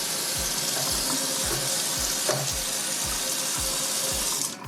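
A bathroom sink tap runs steadily inside a downtown Toronto studio condo, a loud, close, continuous hiss of water with a faint periodic low thump underneath.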